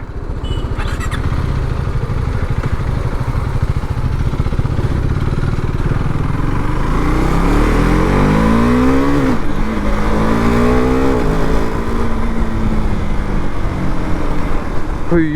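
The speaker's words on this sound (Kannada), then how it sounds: "ಸೊ ಬಾಯ್ಸ್ ಇವಾಗ ರೈಡ್ ಮಾಡಿ ನೋಡೋಣ ಡ್ಯೂಕ್ 390ನ, ದ ಪಾಕೆಟ್ ರಾಕೆಟ್." KTM Duke 390 Gen 3 motorcycle being ridden, a loud, close engine drone that revs up and down through gear shifts, with rising and falling pitch sweeps and wind noise throughout.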